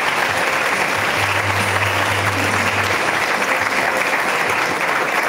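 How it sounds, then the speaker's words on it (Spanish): An audience applauds steadily and evenly at a political candidate presentation, with scattered voices mixed into the clapping. "Aplausos con ustedes."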